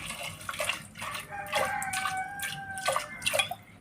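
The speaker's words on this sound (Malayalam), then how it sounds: "ആവശ്യത്തിനുള്ള വെള്ളം കൊടുക്കാം" Water pours and splashes into a pot of jackfruit seed, mango and cucumber curry in uneven gurgling bursts, fairly soft, with trickling and dripping between pours.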